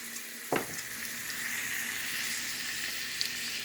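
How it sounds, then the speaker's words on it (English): Fresh chopped organic garlic sizzles steadily in a hot pan, a continuous close frying hiss with a brief stir or clatter near the start and no talking. "we're also going to add a little bit of fresh chopped organic garlic, and that gets added to the sauteed."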